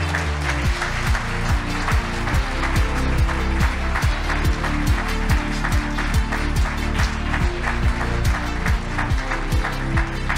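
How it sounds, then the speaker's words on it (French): A large audience at an award ceremony for a responsible finance director prize bursts into sustained applause, dense and steady throughout with a rhythmic undercurrent, loud and close, with no talking. "Et peut-être encore quelques applaudissements."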